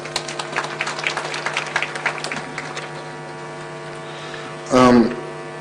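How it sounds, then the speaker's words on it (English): Audience applause at a university gathering, a burst of clapping that quickly fades under a steady mains hum before a brief voice cuts in. "May we clap for that."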